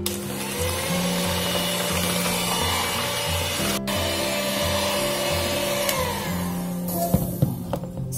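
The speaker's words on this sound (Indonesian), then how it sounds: "Ini langsung saja saya akan mixer hingga putih kaku dan berjejak." An electric mixer whips eggs to stiff peaks for a steamed tiramisu sponge cake, a steady close motor whir with a rhythmic, pulsing hum and occasional clatter against the bowl.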